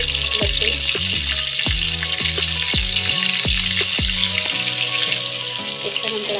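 Garlic dropped into hot butter for a tadka alongside red chillies for palak dal fry, giving a steady close sizzle with a series of sharp clinks and taps from utensils.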